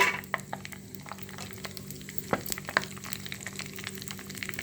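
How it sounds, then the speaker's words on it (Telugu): Mustard seeds, cumin and dried red chillies fry in hot oil in a tempering ladle, giving a steady sizzle with irregular sharp crackles and pops, close and fairly quiet. No voices. "ఎండుమిరపకాయలు ఇవన్నీ వేయించాలి."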